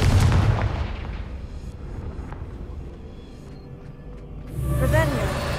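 In the video game Hogwarts Legacy, the Confringo blasting spell goes off with booming, rumbling explosions that fill the short stretch. A second blast swells near the end, and a voice is heard amid the noise.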